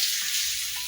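Bay leaf dropped into hot oil with five-spice (panch phoron) sizzles loudly and steadily, a close, bright continuous frying hiss with no talking.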